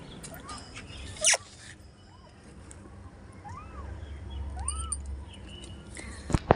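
Newborn kittens whose eyes have not yet opened give several thin, high rising mews spread across a few seconds, faint and close amid light room noise and handling sounds.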